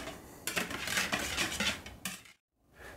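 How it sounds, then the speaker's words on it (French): A whisk scraping and beating briskly inside a bowl, a dense rapid clatter of metal wires against the sides for about two seconds, then a brief silence before mixing resumes faintly. "Avec le fouet, donc je racle. Et je mélange."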